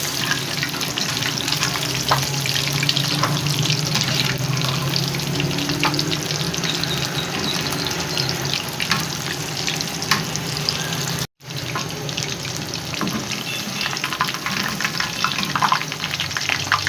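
Besan-battered chicken pakora pieces deep-frying in hot oil give a steady, dense sizzle with faint stirring clinks throughout, broken by one brief dropout near the end.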